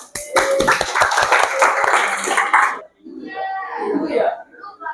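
A classroom claps for the winners, sharp close handclaps that build into a brief burst of applause lasting about three seconds, then stop as children's voices murmur and chatter.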